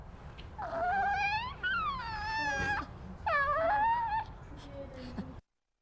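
A baby fusses with low, whimpering cries in several drawn-out, wavering bursts that rise and fall, fairly close, followed by a few quieter whimpers before stopping.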